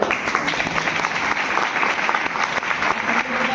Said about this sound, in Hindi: अपने लिए जोरदार तालियां बजाइए।